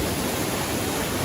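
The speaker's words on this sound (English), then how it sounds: "A spectacular 150-foot waterfall." Dukes Creek Falls, a 150-foot waterfall, pours in a steady, dense roar of falling water that fills the whole clip evenly, close and loud with no voices over it.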